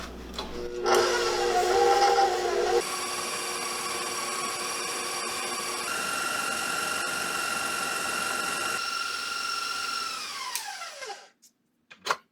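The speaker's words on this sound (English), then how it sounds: "we're going to cream together the butter and sugar. And that's just going to sit in the mixer for about 5 minutes" A stand mixer creaming butter and sugar hums loudly and steadily, its motor pitch stepping up as the speed is changed, then winding down and stopping near the end.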